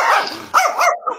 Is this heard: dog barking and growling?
yes